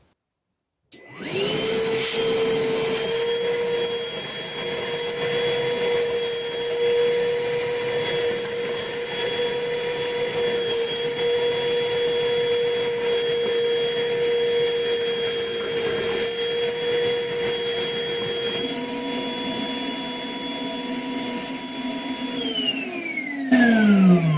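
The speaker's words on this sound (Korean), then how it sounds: "미러키 청소기로 물을 빨아 보겠습니다." A Milwaukee vacuum cleaner, HEPA filter removed, sucks up about 8 to 9 liters of water from a bucket, a loud steady motor whine running throughout, its pitch shifting near the end as the float cuts off suction.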